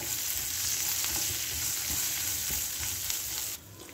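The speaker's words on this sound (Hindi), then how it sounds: "हरी मिर्ची और ज़ीरे को अच्छी तरह से भून लेंगे अपन" Cumin seeds and green chilies roasting in a hot pan, an even, close crackling sizzle with soft stirring scrapes, the frying dropping away sharply near the end.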